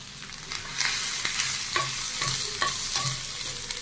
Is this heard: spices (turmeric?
yes